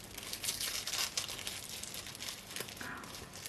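Tissue paper being unwrapped from a boxed set of oracle cards, soft continuous crinkling and rustling up close, fairly quiet, with no voices.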